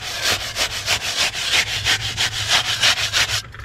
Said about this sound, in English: If you listen close, you can hear the concrete mixing in the background.